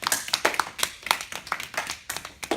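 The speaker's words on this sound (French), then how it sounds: "je propose d'applaudir notre directeur" A small group claps for a company director, a thin, uneven patter of a few pairs of hands, close and fairly quiet, with no voices over it.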